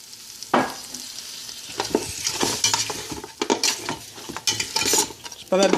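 Pieces of butter hit a hot oiled pan and sizzle, joined by clattering stirring and utensil scrapes against the pan in uneven bursts, close and fairly loud.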